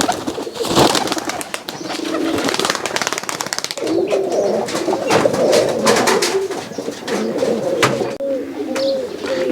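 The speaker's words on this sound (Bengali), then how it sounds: "এগুলো হচ্ছে গররা কবুতর" Pigeons of an old Rajshahi breed coo steadily in a loft, with rolling low calls overlapping throughout, wingbeats and light rustling mixed in, close and fairly loud.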